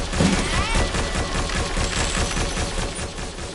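Defensive turrets in a tower-defense game firing in a dense, continuous barrage, loud rapid gunfire that blurs into a constant roar with no pauses throughout.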